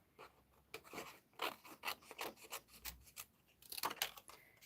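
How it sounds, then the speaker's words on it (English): Scissors cutting roughly around a paper shape, close and quiet, a series of short crisp snips and rustles in quick irregular rhythm. "Just going to cut around that roughly."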